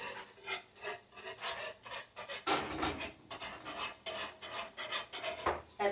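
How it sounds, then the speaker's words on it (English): Thick homemade mac and cheese sauce whisked in a pot: steady, rhythmic scraping and rasping strokes up close, repeating throughout with no talk. "Let me show you guys as I'm whisking it"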